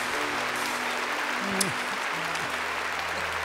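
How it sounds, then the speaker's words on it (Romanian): Concert audience applause for the performers at an anniversary show, a steady even hiss of clapping heard across the hall with low voices and hum beneath it, with no clear peaks. "Dați-le, vă rog, aplauze acestor minunați"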